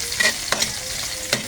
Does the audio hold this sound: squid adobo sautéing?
yes